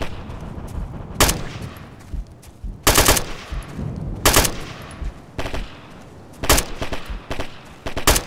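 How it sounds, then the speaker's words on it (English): Bursts of automatic gunfire from the video game Operation Flashpoint: Dragon Rising rattle in loud, repeated volleys, separated by short lulls with softer background battle noise. "Shots fired."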